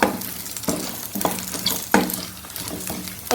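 Chilies crackle and sizzle as they roast until slightly blackened in a hot pan, with repeated stirring scrapes every half second or so and no talking.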